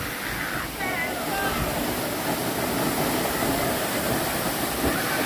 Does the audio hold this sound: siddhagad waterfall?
yes